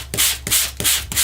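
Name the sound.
sanding cardstock with a sanding block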